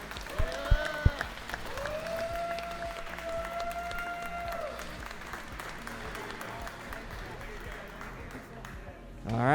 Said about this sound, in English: Let's give a round of applause to Full Send for having us.